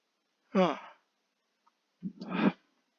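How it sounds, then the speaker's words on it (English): A person yawns twice, a long drawn breathy yawn followed after a short pause by a second one, close and fairly quiet with silence between. "Sorry, I yawn randomly."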